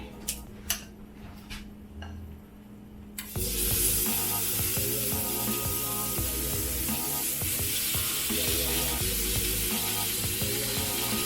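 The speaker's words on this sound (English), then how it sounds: "So let's get that tuna in the pan." Tuna searing in a hot pan gives a loud, steady sizzle and hiss that bursts in after a quieter stretch of kitchen clatter, with pan and utensil clinks.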